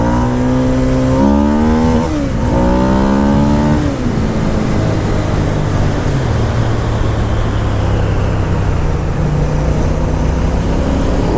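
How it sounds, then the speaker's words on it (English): A 103 hp Ducati V-twin motorcycle engine revs up through rising then falling pitch sweeps before settling into a loud, close, grunty idle rumble that carries on to the end. "And that just grunty V-twin power."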